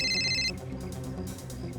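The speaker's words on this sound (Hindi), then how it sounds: "ये दिनेश क्यों फोन कर रहा है मुझे?" Mobile phone ringtone sounding for an incoming call, a bright repeating electronic tone that stops after about half a second, leaving quiet room noise.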